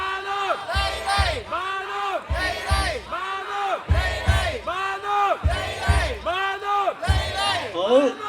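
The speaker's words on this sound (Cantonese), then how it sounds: "咁啊歡呼聲係有啦" A concert crowd cheers and chants in loud, rhythmic bursts of shouting voices that rise and fall together, close and sustained throughout.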